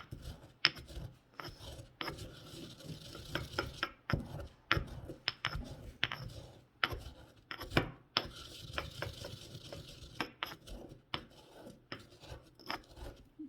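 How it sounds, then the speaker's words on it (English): Whole spices ground by hand into a fine powder, a string of sharp crunching, grinding strokes in uneven rhythm, close and fairly quiet with no voices. "See, kind of grind it into like a nice fine powder."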